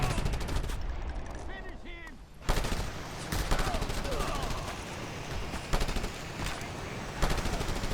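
Rapid bursts of machine gun fire crack repeatedly in the video game Just Cause 3, with explosions and game effects layered in, loud and continuous throughout.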